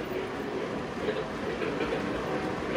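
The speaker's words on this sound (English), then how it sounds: "Oh, look at a busy railroad." Freight trains roll past on a busy main-line railroad, a steady near rumble of wagons with faint clickety-clack running throughout, no pauses.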